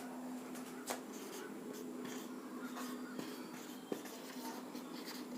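Chemical formula being handwritten during a chemistry lesson, faint steady scratching of a pen or marker with a few small taps, quiet and close with no talk.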